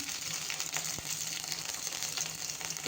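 Cumin and garlic sizzling in hot oil over a low flame for tempering, a constant close crackling hiss with a few small pops and no talking.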